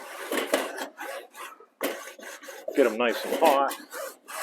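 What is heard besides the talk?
wooden paddle scraping hot barbecue grill grates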